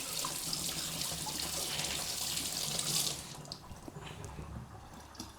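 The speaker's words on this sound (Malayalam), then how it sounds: "തക്കാളി വാഷ് ചെയ്തിട്ട് വരാം കേട്ടോ." Tomatoes are washed under a running kitchen tap, a steady close rush of water for about three seconds that then stops, leaving faint drips and handling noises.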